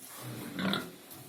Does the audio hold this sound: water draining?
no